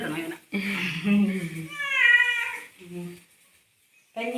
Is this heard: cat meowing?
yes